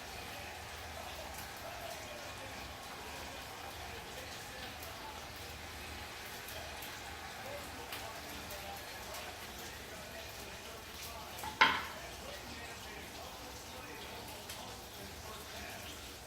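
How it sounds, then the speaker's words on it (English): Pan-seared rockfish sizzles with a faint, steady crackle and hiss throughout, with a single brief clatter near the end; a voice speaks quietly over it at times. "the fish is cooking in the pan"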